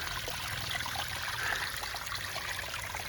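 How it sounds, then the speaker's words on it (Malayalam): A small waterfall in Kerala, a steady broadband rush of flowing water that stays constant and moderately distant, with no voices. "ഒരു ചെറിയൊരു വാട്ടർഫോൾ ഗൈസ്."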